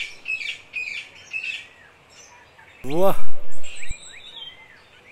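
Cartoon birdsong in a forest: several bright chirping phrases in the first seconds, then a sharp rising call and brighter whistles later, with a man briefly exclaiming over the birds.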